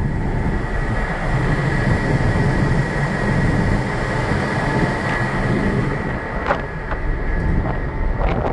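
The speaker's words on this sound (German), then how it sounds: "Auch hier drinnen hören wir die Motoren." Ferry ship engines heard from inside the vessel on a Rosslare crossing, a loud, steady low rumble and drone with a faint whine above it and a few light clicks near the end, no talking.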